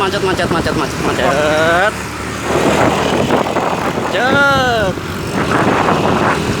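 Traffic crawling along a congested village road in Nganjuk with trucks gathered, a steady engine rumble throughout and two rising-and-falling tonal blasts like horns, with people talking over the noise.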